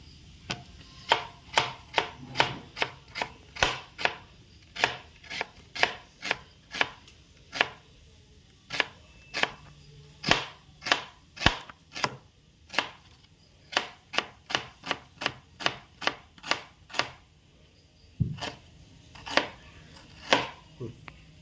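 Onion crushed for a Kerala-style chicken peratt, a steady run of sharp, close knocks on a hard surface, repeated dozens of times in an even rhythm with a few brief pauses, no talking.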